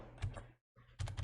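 A short burst of close keyboard typing as a file name is entered into a save window, a brief silent gap, then another quick flurry of key clicks.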